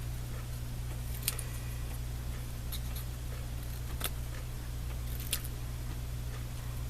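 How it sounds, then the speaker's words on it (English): Scissors snip through paper to cut out printed words for a bunny-themed craft, making a handful of sparse, quiet, crisp clicks over a low steady hum. "I think I'm gonna have to cut the words out and use them individually."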